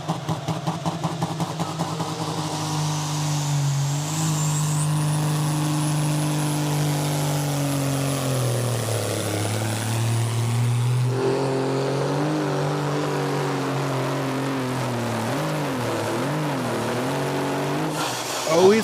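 Krone Hulk, a Danish pulling tractor in the 4.5-ton Super Sports final at Knutwil, roars through a full pull, its loud, continuous engine note rising and falling in pitch as the throttle and clutch work, then surging at the end.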